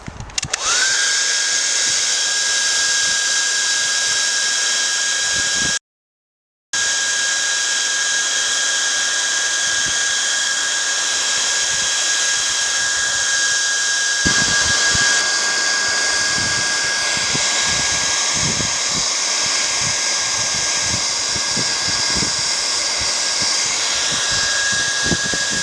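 A hot air gun heating the glue under the boot vinyl of a Mk2 Volkswagen Golf, giving a loud continuous blowing roar with a steady high whine. It cuts out once briefly, and faint scraping crackles come under the blast later on.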